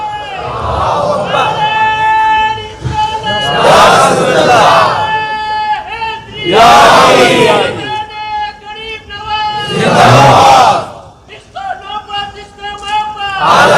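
A large crowd at a Sufi religious gathering bursts out three times in loud unison slogan chants, each roar answering a preacher's amplified call between them.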